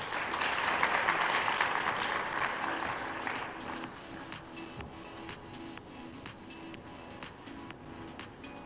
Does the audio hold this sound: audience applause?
yes